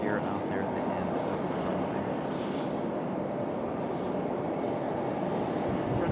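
Airliners taxiing at Raleigh-Durham International Airport, a steady broad jet-engine roar heard from a distance with no clear peaks, constant throughout.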